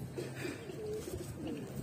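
A pigeon gives soft, low, rolling coos, faint and close by, in a short run of throaty calls with little else around.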